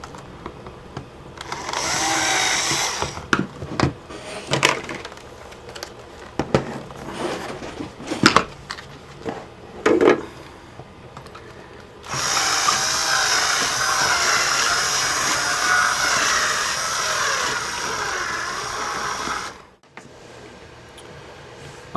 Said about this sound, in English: I'm just going to bring the drill in like a circular motion just to make the hole a little bit bigger